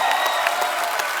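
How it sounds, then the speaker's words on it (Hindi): A studio audience on a Hindi comedy talk show claps loudly and steadily, a dense wash of applause throughout with no talk over it. "जोरदार तालियां"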